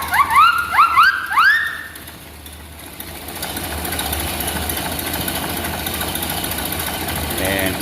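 A 1931 Ford Model A engine with a freshly adjusted carburetor idle screw runs slow and steady, a low, even mechanical rumble close by, preceded by a few short high chirping horn-like tones at the start.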